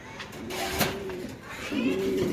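Caged Gorra pigeons, a breeding pair with eggs, give low rolling coos in two drawn-out phrases, near and clear over a faint room hum.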